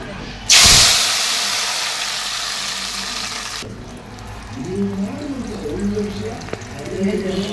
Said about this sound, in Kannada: ಇವು ಎಣ್ಣೆಯಲ್ಲೇ ಫ್ರೈ ಆಗಬೇಕು ಚೆನ್ನಾಗಿ